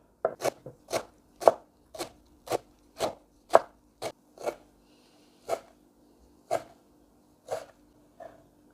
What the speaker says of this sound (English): finely chop half a bunch of fresh coriander.